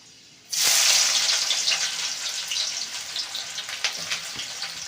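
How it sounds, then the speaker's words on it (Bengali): Onion sliding into hot oil seasoned with fenugreek seeds bursts into a loud, close sizzle that begins abruptly and keeps crackling evenly, easing only slightly as it goes on. "তারপরে পেঁয়াজটাকে ভেজে নিই"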